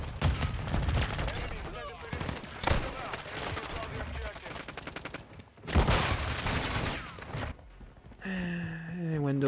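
Gunfire bursts in Call of Duty: Modern Warfare 2 online play: repeated loud shots and rapid volleys over several seconds, with brief gaps, followed by a distinct electronic tone at the end.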